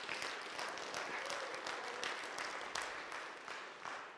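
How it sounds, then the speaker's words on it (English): A congregation at a church revival service claps its hands, a busy spread of claps with a few sharper individual hits standing out, steady at moderate loudness before easing slightly. "Give the Lord a hand clap right now."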